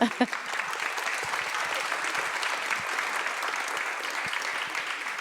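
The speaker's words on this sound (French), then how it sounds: "Vous pouvez aussi applaudir Hicham." Applause from an audience at a round-table discussion on cultural and educational action, steady close clapping with a few sharp individual claps, continuing for several seconds.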